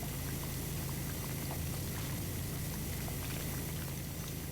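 Dirt sprays off surfaces under a pressure washer in PowerWash Simulator, a dense, continuous hissing spray like heavy rain that stays steady and close with no talk.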